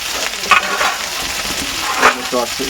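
Tomatoes going into a curry frying with garlic paste, giving a loud, close sizzle with a couple of sharper bursts and stirring clatter.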